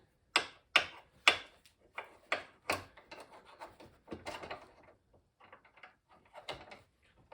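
A series of sharp taps, several loud strikes followed by lighter, quicker ones, like a hammer knocking a metal pin into place close up on a Minn Kota Powerdrive trolling motor.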